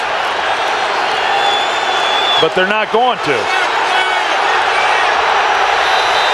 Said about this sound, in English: The crowd is screaming for a review.